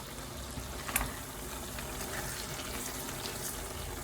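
Crayfish mix and dried anchovies fry in a pepper sauce, a steady soft sizzle and crackle with small pops, continuous and close, no voices over it.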